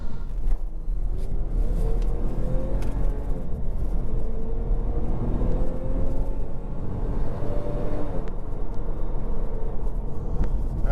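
A Lexus IS300 accelerates hard to 60 mph, its engine note rising steadily through the gears as a muffled cabin drone with muted tire rumble, heard alone without talk.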